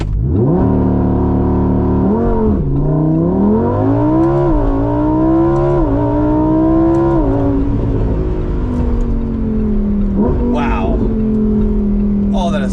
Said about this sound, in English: we're gonna do a standing launch now